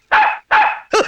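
A dog in a Tamil comedy scene gives three short, loud, close bursts, two evenly spaced and a third clipped one, each sounding like a yelping bark.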